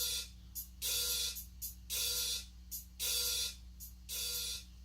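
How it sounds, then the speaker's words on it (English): A produced groovin' beat in which open hi-hats wash in and close, repeated hissy cymbal swells in a regular pattern over a low steady bass hum, heard alone. "we added some extra hi-hats that were opening, they were open hi-hats and kind of closing a bit"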